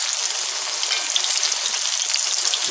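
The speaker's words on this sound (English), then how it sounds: "it just does not take very long to fry them." Thin slices of green tomato fry in hot oil with a loud, dense, even sizzle that holds steady and close throughout the short stretch, with no other sounds.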